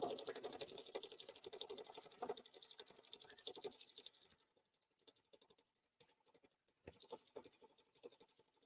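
A sewing machine runs in rapid, steady stitching bursts as it sews a quilted grocery bag, loud at first, then quieter, intermittent runs with small clicks and pauses.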